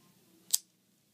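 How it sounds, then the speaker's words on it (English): Sturdy nail clippers snip the hooked tip off a cat's claw in a single short, crisp click, close and isolated against a quiet background. "take your clippers, good strong clippers, and get the little hook and just snip it off"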